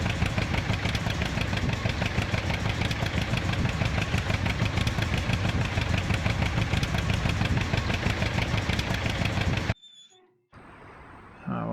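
A John Deere 830 tractor engine in Farming Simulator 19 runs loud and steady with a dense, continuous rumble. It cuts off abruptly near the end, followed by brief quieter sounds.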